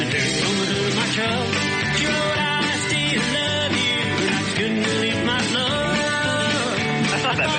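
A full-band song plays over the radio, dense and loud throughout with steady music and no talk over it.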